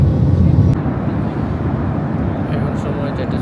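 Airplane cabin during a flight from Malaysia to Bangladesh, a loud, steady low engine and air roar filling the space, with faint speech-like murmur underneath.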